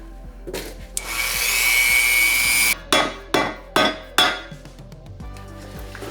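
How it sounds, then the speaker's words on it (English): A grinder whines against metal for a couple of seconds, grinding down a weld on a car subframe, followed by four sharp metallic knocks of hammering at a steady rhythm. "grind down this weld that they didn't grind down in the subframe"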